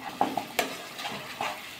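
Spices (turmeric, salt, Kashmiri chili powder and sugar) being stirred into a frying cauliflower curry, with a few scraping clinks of a spoon against the pan over a light sizzle.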